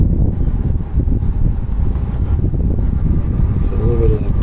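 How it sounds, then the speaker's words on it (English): Steady outdoor wind rumbles and buffets the microphone in a constant low roar throughout. "Getting a little windy."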